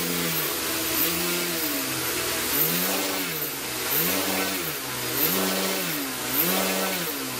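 An electric motor on a model cargo VTOL plane, rear motor braked, spins up under repeated throttle, its whine rising and falling in steady surges about every second and a half, loud and close with no talk.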